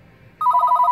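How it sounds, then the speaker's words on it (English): An office telephone starts ringing abruptly, a loud, close electronic trill of two alternating tones after a brief quiet moment, with no talking. "Apologize for the phone calls."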